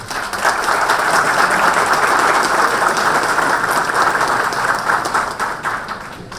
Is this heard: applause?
yes